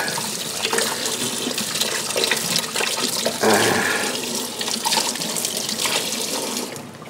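A GoPro camera is rinsed under a running tap, water splashing and gushing loudly and steadily close by, with a heavier burst of flow midway.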